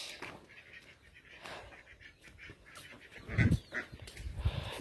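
Farm ducks out grazing by irrigated plantings give a few short, loud honking quacks near the end, after quieter rustling outdoor ambience.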